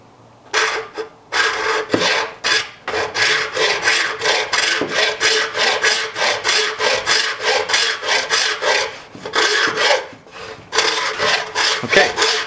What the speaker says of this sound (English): we're going to use the bone saw, or you can use a hacksaw